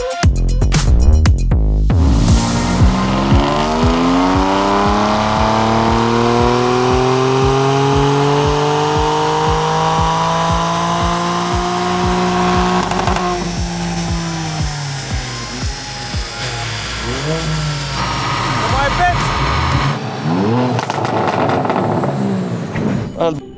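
A 583-horsepower sports car engine revs loudly and close, its pitch sweeping upward and holding with a harsh, layered roar after a rapid burst of sharp pulses at the start, then dropping away near the end.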